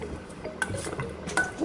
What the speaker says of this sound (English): I'm just going to add in the coconut, the shredded coconut that is, and I am also going to add in the spices, and we are just going to mix it together